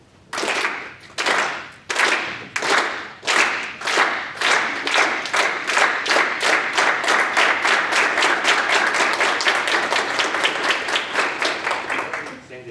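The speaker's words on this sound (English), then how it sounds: "Do a slow clap." Slow clap at a Senate meeting after a confirmation vote: a group claps in unison, starting with widely spaced loud claps that steadily speed up into a dense, continuous applause over about thirteen seconds.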